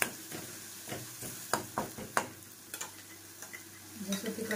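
Chilies sizzle faintly in hot oil while a masala for brinjal slices is roasted, a low steady hiss broken by a few sharp clicks and stirring taps.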